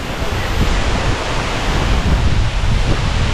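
Tamaraw Falls in Puerto Galera pouring hard, a steady, loud broadband roar of falling water that fills the whole clip without letup and with no voices.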